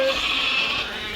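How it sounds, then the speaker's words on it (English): Dorper sheep on a large African dairy farm bleat close by, a steady nasal call that runs through the whole short moment with no talk. "Let me now show you the doper sheep."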